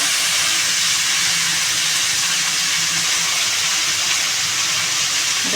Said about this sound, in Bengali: এই রসুনগুলোও সব দিয়ে দেবো এটা একসঙ্গে ভাজবো